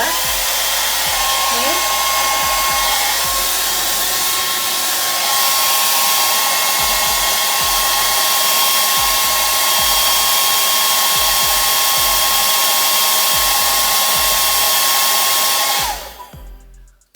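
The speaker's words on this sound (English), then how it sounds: "I am going to direct the heat of the hairdryer to the root." A hair dryer runs steadily and loudly, directing heat at the roots of a synthetic wig, with a constant whooshing roar and a faint whine that holds for over fifteen seconds before cutting off abruptly.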